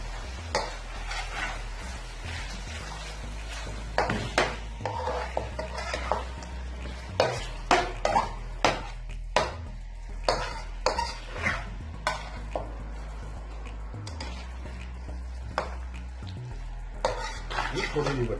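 Beef karahi with black pepper cooks in a pan, a low steady sizzle under repeated scraping clinks as a spoon stirs against the metal. The stirring comes in uneven bursts, quiet and close, with occasional faint speech.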